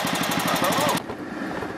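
An MTD 700 series mower engine fitted with a modified exhaust runs close and loud, a fast, rapid-fire pulsing putter that drops to a lower, rougher idle partway through.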